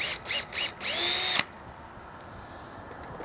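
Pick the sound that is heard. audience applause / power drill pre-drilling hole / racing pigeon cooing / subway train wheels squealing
power drill pre-drilling hole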